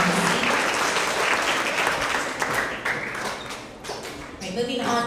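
A sustained wave of applause fills an end-of-year school award assembly for 3rd to 5th graders, loud at first, dipping slightly, then rising again, with scattered taps, thuds and voices underneath.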